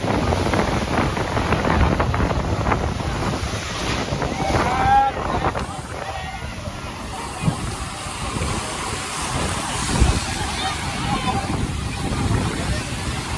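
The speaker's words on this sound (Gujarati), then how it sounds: "મોજા પણ ખૂબ મારે છે અવાજ" Sea waves surge and break continuously on the shore at Somnath on the Gujarat coast, mixed with heavy gusts of wind buffeting the microphone and faint voices in the background.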